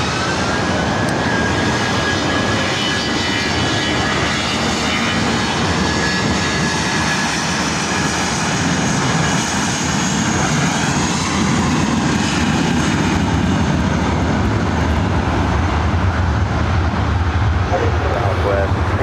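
Jet airliners at LAX airport make a continuous, loud, rumbling roar that swells slightly toward the end, heard up close with faint voices underneath.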